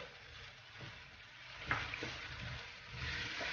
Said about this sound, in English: We cook the chili bean paste until the aroma come out and it becomes dry and crispy.